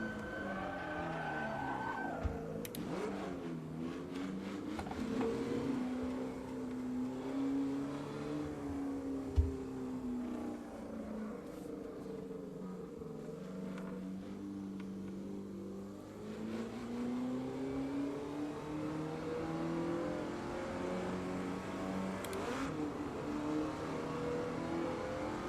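A modded car in the racing game Assetto Corsa at Brands Hatch Indy circuit, its engine droning and revving continuously as it accelerates and shifts, pitch rising and falling through gears for the whole stretch.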